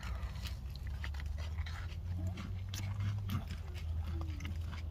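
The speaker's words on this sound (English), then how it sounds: "So I'm going to finish eating the cookie though." Someone chews a Costco chocolate chunk cookie close up, with soft, quiet crunching and biting over a low background hum.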